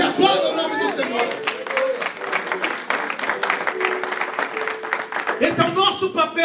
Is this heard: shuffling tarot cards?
no